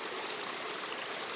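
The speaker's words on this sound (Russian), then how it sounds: "Ручеек здесь небольшой." Small mountain stream near Medeu flowing steadily, a continuous broadband rushing and trickling wash of water, close and even in level from start to end, with no voices.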